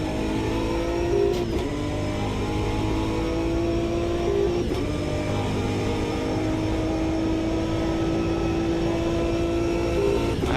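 A race car engine drones continuously at the Monza circuit in the video game Automobilista 2, holding a steady high-revving tone with a few brief gearshift blips, loud and close throughout.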